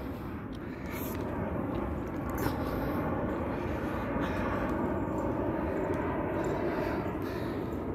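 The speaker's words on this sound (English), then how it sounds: "You can hear the sounds of aircraft." Aircraft engine drone outdoors near Seattle, a steady distant broadband hum that holds at an even level throughout with a faint brief click along the way.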